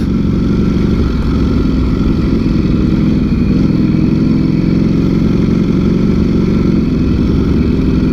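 A Ducati Streetfighter V4 S motorcycle engine runs nearby with a loud, steady, low rumble that holds at an even idle for the whole stretch.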